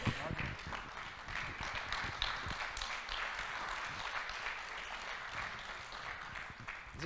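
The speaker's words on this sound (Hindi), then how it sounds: "तालियां इस दोस्ती के लिए, तालियां इस जज्बे के लिए" Sustained applause from an audience at a Hindi poetry event, many hands clapping in a dense, steady patter that continues throughout.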